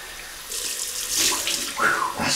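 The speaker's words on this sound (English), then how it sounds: "Beautiful, cold water. Welsh water rinse." Cold Welsh tap water runs steadily into a sink for a post-shave rinse, a close, continuous splashing rush that swells slightly midway with no talk over it.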